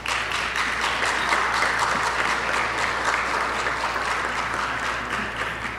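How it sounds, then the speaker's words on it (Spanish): Sustained applause fills a legislative chamber during a Mexican congressional session, a dense, even roar of many hands clapping from start to finish with no break and no voices on top. "Quiero pedir de nuevo un aplauso para Josías."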